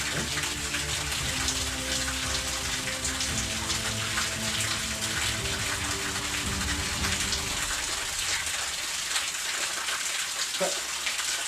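Steady rushing water runs continuously through a water filter, a dense close splashing flow that persists throughout, with faint tonal sounds mixed in early on.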